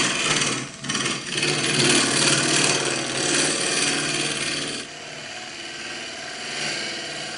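A wood lathe tool shear scraping a spinning timber off-cut, giving a loud, continuous close-up rasping scrape over the hum of the turning piece, easing to a softer scrape near the end.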